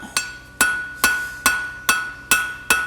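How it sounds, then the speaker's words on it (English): A blacksmith's hammer striking a hot steel bar being forged into an octagon, seven sharp ringing blows at an even pace about half a second apart, each with a bright metallic ring that decays, close and loud. "I'm passing this back and forth underneath my hammer."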